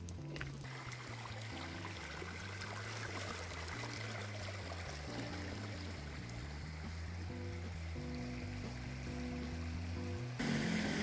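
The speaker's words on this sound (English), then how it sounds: "This is like a river beach." Water flowing at a river beach in Portugal, a continuous soft trickle and wash running steadily under a low droning tone, with no talking.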